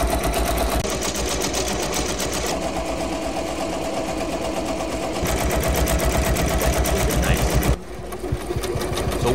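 A home embroidery machine stitches a traced design into fabric held in a hoop, giving a loud, steady, rapid needle chatter with a mechanical hum that runs almost continuously and dips briefly near the end.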